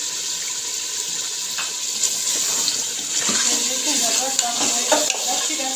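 Pre-fried tinda gourds tipped into a pot of beef masala for tinda gosht, giving a steady sizzle with light stirring scrapes and a few soft clinks from the pot.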